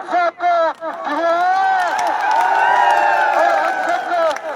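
Crowd at a political rally in Dhorimanna cheering, whistling and clapping, a few sharp shouts up front swelling into a loud, sustained roar of voices and applause.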